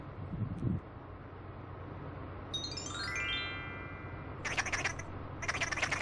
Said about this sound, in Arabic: عصفور عين عصفور عين عصفور.